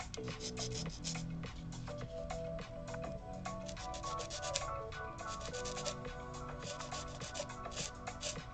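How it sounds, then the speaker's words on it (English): A sanding stick scrapes steadily across plastic parts of a Ranni model kit from Elden Ring, a continuous close, dry rasping with short repeated strokes and no speech. "Looks like I better get a sanding stick and get working and rolling"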